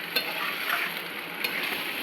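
Chicken kosha, a Bengali dry chicken curry with potatoes, sizzles steadily in a pan while a spatula stirs it, with a couple of sharper scrapes breaking through a continuous close frying hiss.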